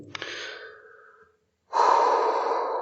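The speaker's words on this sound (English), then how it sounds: "I just need to get my breathing right." A man takes a slow, deep breath in and lets it out in a long, controlled exhale, close to the mic, with a short pause in between.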